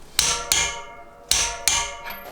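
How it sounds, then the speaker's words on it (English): Torque wrench clicking while tightening a bicycle wheel on a carbon road bike, four sharp metallic clicks in two close pairs, loud and near with ringing decay, no voices. "when you hear that delightful click of the torque wrench"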